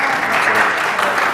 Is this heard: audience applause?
yes